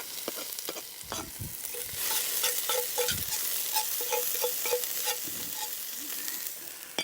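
Onion and garlic sizzle and fry in olive oil inside a Dutch oven at a camp cookout, a steady close crackle with several stirring scrapes and clacks throughout, no talking.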